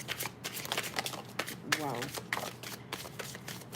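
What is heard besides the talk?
shuffling a tarot card deck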